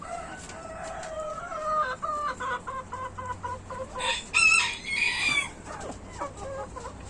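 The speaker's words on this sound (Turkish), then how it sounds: "Bunlar benim köy tavuklarım." Several village chickens cluck and chatter in repeated short bursts close by in a garden, with a brief louder squawk midway, over a faint outdoor background.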